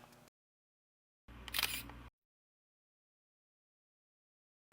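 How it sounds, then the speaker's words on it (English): A Canon XT SLR camera fires its shutter once, a single short mechanical clack with a whir, standing alone between stretches of silence. "Press the shutter all of the way down to take the picture."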